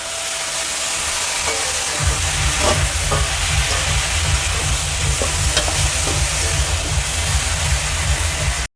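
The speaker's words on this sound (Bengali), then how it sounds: "তো আমার বিনসটা ভাজা হয়ে গেছে, এবার আমি এটাকে ছেঁকে তুলে নেব।" Green beans sizzle steadily in hot oil in a pan as fried rice is cooked Bengali style, a continuous loud frying hiss with occasional scrapes and light clinks of stirring throughout.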